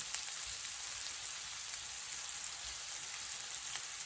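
Shrimp fry in butter in a pan, a bright, even sizzle with fine crackles running steadily throughout, no voices.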